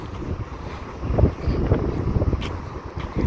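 Strong, cold wind in Oman buffets the microphone in low, rumbling gusts that swell and ebb throughout.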